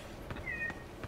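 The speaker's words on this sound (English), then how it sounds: "Great, my cat's back." A cat meows once, a short, clear call, close by over quiet room tone, with faint bumps around it.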